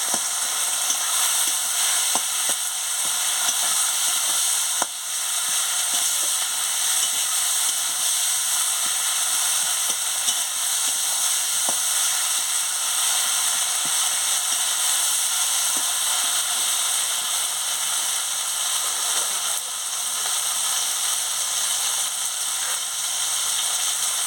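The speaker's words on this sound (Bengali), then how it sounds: "দিয়ে মশলাটাকে ভালো করে ভেজে নিচ্ছি।" A spice mix with turmeric sizzles loudly and steadily in a hot pan, a dense continuous frying hiss with faint scraping ticks of stirring throughout.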